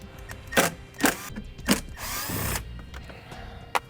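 A power drill backs screws out of an interior panel in a 2017 Jeep, giving short whirring bursts, then a longer sustained spin and a final brief pulse, close up and loud with no talking.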